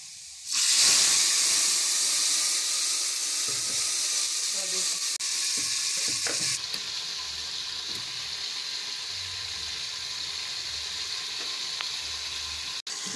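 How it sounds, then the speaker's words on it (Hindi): Garlic and spices frying in hot oil for a village-style saag, a loud, steady sizzle and hiss that starts abruptly and carries on throughout, with a few faint clinks of stirring underneath. "गरम हो रहा है, लहसुन इसमें हमने डाल दिया है।"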